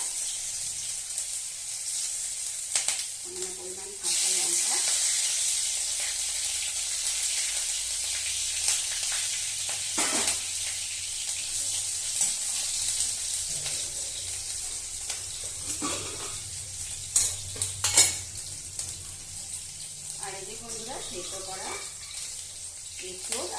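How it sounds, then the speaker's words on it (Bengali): Ginger fries in hot oil for vegetarian jackfruit chops, a soft, steady sizzle with occasional clinks of utensils and faint voices at times. "এবার ওই তেলের মধ্যে আমি দিয়ে দেব কিছুটা পরিমাণ আদা"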